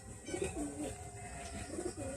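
Andra breed pigeons coo softly at close range, a few low rolling coos rising and falling over faint background hum, with no talking.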